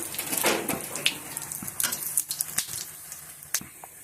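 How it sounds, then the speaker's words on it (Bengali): Whole cardamom, cinnamon, bay leaf and cumin tempering in hot oil in a kadai, a close, crackling sizzle with scattered sharp pops and spits over a steady hiss. "ফোড়নগুলি দিয়ে দিচ্ছি, গোটা এলাচ, দারচিনি আর তেজপাতা দিয়ে দেবো, জিরে ফোড়ন"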